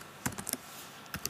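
Keystrokes on a computer keyboard as a web address is typed, a few quick clicks in two short bursts separated by a pause, close and fairly quiet with no talking.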